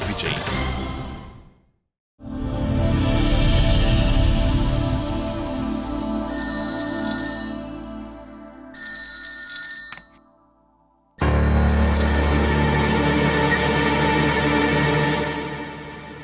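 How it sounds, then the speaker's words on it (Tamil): A mobile phone plays a loud, melodic ringtone for an incoming call during a Tamil TV serial scene. The tune runs in bursts separated by brief silences and fills the clip up close. "அண்ணா, இப்ப மட்டும் எதுக்கு ஃபோன் பண்ற?"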